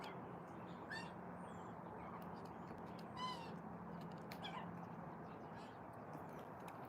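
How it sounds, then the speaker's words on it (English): A baby magpie gives short, faint chirping calls at intervals over a steady background hiss outdoors, a few brief calls rising above the noise. "You can hear a baby magpie talking to itself."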